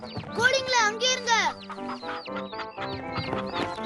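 Cartoon chickens cluck and squawk in quick, bright bursts, loud and close, with a run of excited high calls at first and then choppier clucking that continues as a voice speaks over it.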